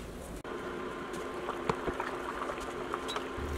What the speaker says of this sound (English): You want to cook your vegetable soup for about 20 minutes.